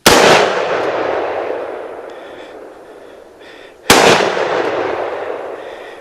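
Two loud rifle gunshots at night on a wild hog hunt near the Cape Fear River in Eastern North Carolina, each a sharp close crack followed by a long rolling echo, a few seconds apart.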